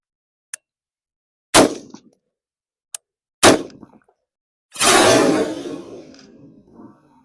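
Diamondback DB15 AR pistol shots striking a Dr Pepper can: two sharp, loud reports about two seconds apart, each preceded by a faint tick, then a longer burst of spraying, fizzing noise that trails off.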